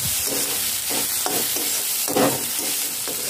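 Green chillies dropped into a hot pan of softening onions, with a steady sizzle and bursts of stirring and scraping at an even pace, close by and with no voices.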